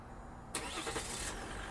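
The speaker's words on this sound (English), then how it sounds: "Just listen to that engine roar to life." A 2014 Jeep Grand Cherokee Summit engine, started by remote start, cranks and catches halfway through, settling into a steady muffled rumble after a quiet start.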